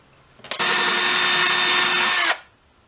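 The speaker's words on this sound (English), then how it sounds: "we are going to drill out the tailpiece for the tension pin string retainers" A power drill whirs loudly and close for under two seconds in one steady burst, drilling pilot holes in a guitar tailpiece, then cuts off into quiet.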